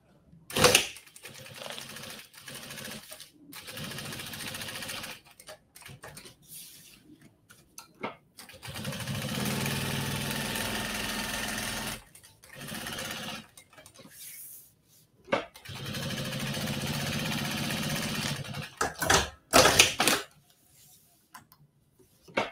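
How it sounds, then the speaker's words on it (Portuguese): A sewing machine stitching a fabric pouch pocket for a zippered toiletry bag with a clear vinyl window, running in several steady mechanical bursts separated by short pauses. "Eu fiz o desenho aqui e agora eu vou costurar."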